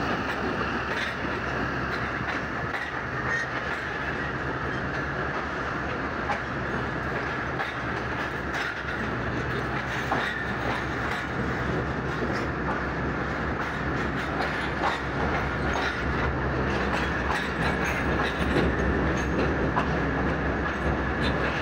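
Khyber Mail passenger train at Lahore station, a steady, loud rumble of rail cars with faint clickety-clack throughout, continuous and without speech.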